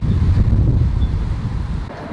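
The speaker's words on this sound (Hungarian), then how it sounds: "menet közben itt egy akkora vihar kerekedik éppen" Strong wind gusts outdoors during a gathering thunderstorm, a steady low rumbling roar buffeting the microphone with no talking.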